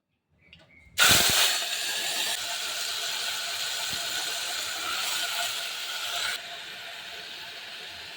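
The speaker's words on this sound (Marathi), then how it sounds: "कुकर चांगलं गरम झालेला आहे तेल टाकल्यावर आहे ना तेल पण गरम झाले चांगले फुलगे टाकते आता" Sprouted horse gram drops into hot oil in a pressure cooker, setting off a sudden loud sizzling hiss that holds steady for several seconds, then eases to a quieter sizzle.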